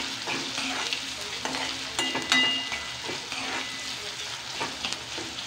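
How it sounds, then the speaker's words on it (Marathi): Onion frying in a hot pan with chilli, a steady close sizzle broken by repeated scraping stirs of a spatula against the metal, no voices. "त्याच्यात कांदा टाकूया. कांदा जरा मऊ होईपर्यंत परतून घेऊया."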